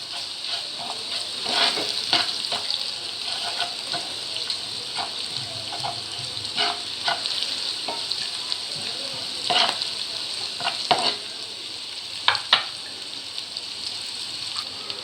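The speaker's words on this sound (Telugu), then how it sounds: "1/2 టీ స్పూన్ ధనియాల పొడి, 1/2 టీ స్పూన్ గరం మసాలా, రుచికి సరిపడా ఉప్పు వేసి కలుపుకుందాం." Spices, coriander powder, garam masala and salt, being stirred into a sizzling pan of frying vegetables, with a steady hiss and irregular scraping clicks of a spoon against the pan, close and continuous.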